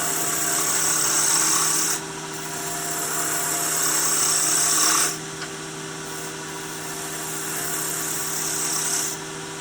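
A gouge cuts wood on a spinning lathe while a birdhouse ornament is turned, making a loud continuous whirring, scraping cut that stops briefly twice and then resumes over a constant low motor hum.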